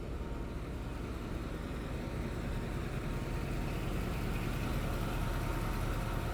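A 2000-horsepower diesel locomotive idles at Rohri Junction, its low, steady engine rumble continuous and even throughout, with no voices.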